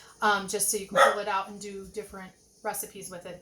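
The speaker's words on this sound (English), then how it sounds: "Sorry about the dogs barking." Dogs bark and yip in the background of a home kitchen, with short bursts mixed under a person's steady talk about cooking ground beef.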